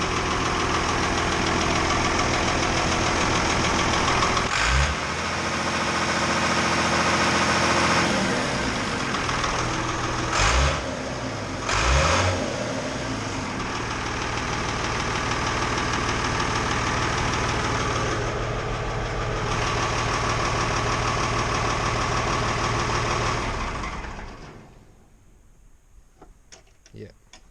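A rebuilt John Deere 8210 tractor engine, after an in-frame rebuild, idles steadily with a deep, even rumble and a few brief revs. It runs loud and close for about 24 seconds, then cuts off abruptly near the end.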